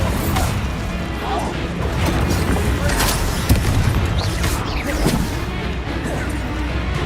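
Bombarda blasting spells and Incendio fire spells erupt in a Hogwarts Legacy duel, with a steady run of crashing blasts, sharp cracks and rumbling impacts going on continuously and loudly, mixed with clanking effects.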